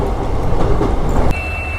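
A train rumbles along the tracks close by on the Pamban sea bridge, a brief, dense roar of wheels and carriages.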